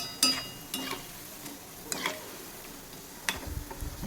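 Besan and spinach fritters fry in oil under a soft, steady sizzle, with a few sharp clicks and scrapes as they are turned, and no voices.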